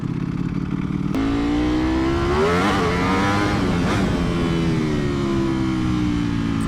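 Ducati Panigale V4R sportbike revving hard on cold tires, the engine note sweeping up and down in a loud sustained whine as the rear wheel spins, close and steady with no talk.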